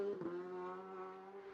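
An Isle of Man TT superbike engine with a steady high-RPM tone as it brakes into the pit lane, brief rougher bursts at the start, heard fairly faint and alone.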